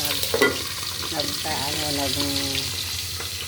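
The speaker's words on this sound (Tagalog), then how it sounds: "Tatalisikan yung ating mantika." Fish sizzles and crackles in hot oil in a pan with steady, close frying noise and occasional sharper spatters, while a voice is briefly audible underneath.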